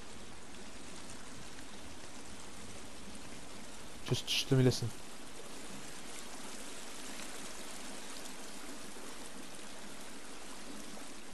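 Steady flowing water in the survival game The Forest, a continuous stream-like rush filling the whole stretch, with a brief louder burst of movement near the middle and a person speaking quietly over it.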